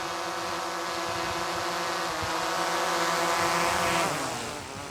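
A DJI Mavic drone hovers with a steady high-pitched whine of its motors close by, then the pitch drops and fades as it settles into a hand and the motors spin down.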